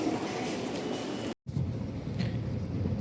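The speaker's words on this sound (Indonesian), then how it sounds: "Ini tadi aku udah beli tiket dan sekarang udah naik keretanya" A train runs between Matsuyama and Takamatsu in Japan, with a steady loud interior rumble of wheels and motion, briefly cut to silence before the rolling noise resumes.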